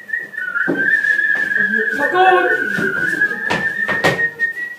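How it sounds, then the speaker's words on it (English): A single sustained whistled tone runs steadily through the whole moment, with a brief exclaiming voice and a few knocks underneath. "Whistle. Whistle."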